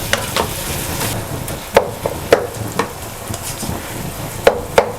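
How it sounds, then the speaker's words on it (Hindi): A spoon stirs sugar into carrot halwa cooking in a pan, soft scraping under a low sizzle with several sharp clacks of the spoon against the pan, close and fairly loud. "चीनी डाल के इसे अच्छी तरह मिक्स कर देना।"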